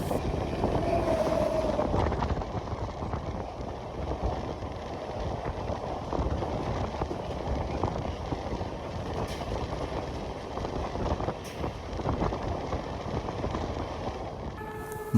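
The Kolkata–Balurghat Tebhaga Express passes by, a sustained low rumble and clatter of rolling coaches at moderate loudness, steady throughout with no talk.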